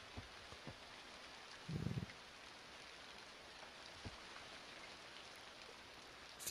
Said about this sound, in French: Oh, il pleut, tiens.